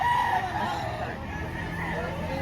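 Chickens and roosters at a poultry market in Lipa, Batangas, with steady crowing and clucking mixed into a continuous busy background of nearby voices and crowd babble.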